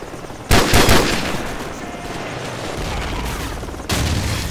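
Gunfire from the PC game Call of Duty 4 Modern Warfare erupts in loud, sharp bursts of rapid automatic fire, a sustained rattle continuing before another burst near the end.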